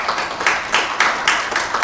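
Audience clapping at a financial forum comes in brisk, regular bursts of hands, a short and fairly loud patter with no talking over it.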